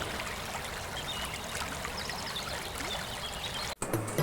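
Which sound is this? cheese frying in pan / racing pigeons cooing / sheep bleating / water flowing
water flowing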